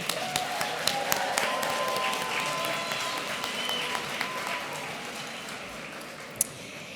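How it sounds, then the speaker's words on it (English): Audience at the HDSA National Awards Gala applauding guests from Louisiana: steady, moderate clapping from a crowd, sustained and gradually thinning toward the end with a few isolated sharp claps. "Round of applause for everyone from Louisiana"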